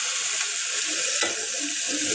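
Spices for a tilapia curry sauté in an oiled pan with a loud, continuous, close sizzle and a faint scrape of stirring.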